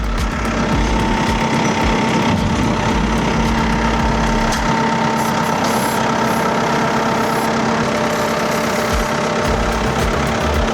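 A vehicle engine runs steadily at a low idle-like rumble with a constant hum and vibration throughout, close and loud, while a learner drives it at slow speed.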